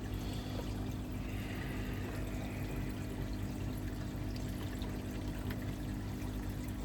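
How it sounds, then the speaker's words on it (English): Water is emptied out of an AquaWiz KH tester, a faint, steady pouring hiss that runs evenly throughout. "I'm going to empty the water out."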